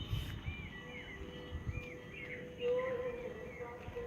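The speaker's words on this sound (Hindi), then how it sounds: "पक्षियों की आवाज़ें," Birds chirp and call faintly in an outdoor meditation setting in Jabalpur, with short scattered tweets over a steady low rumble of background noise.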